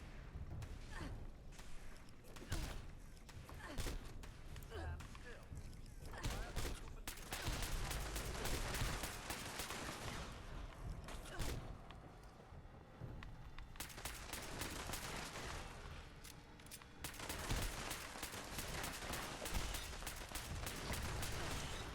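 Pistol gunfire in a video game, sharp reports cracking out in bursts across the stretch amid other explosive game noise and background sound, fairly dense and steady in loudness.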